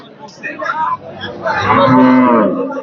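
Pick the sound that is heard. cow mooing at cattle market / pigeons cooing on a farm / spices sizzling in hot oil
cow mooing at cattle market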